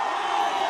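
A large crowd at an outdoor political rally roars and cheers in a dense, continuous wash of voices, loud and sustained with no single clear voice standing out.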